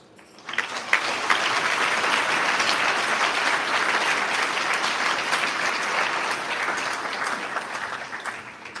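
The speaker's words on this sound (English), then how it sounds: "Please welcome all of our youth panelists with your round of claps." An audience at a youth assembly event gives the youth panelists a round of applause, the clapping swelling quickly after a brief quiet start and then holding steady and full for several seconds.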